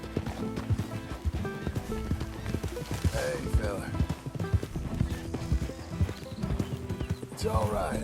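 Hooves thud in a steady clip-clop as a horse whinnies briefly in Red Dead Redemption 2, up close beneath a man's soothing speech and background game music.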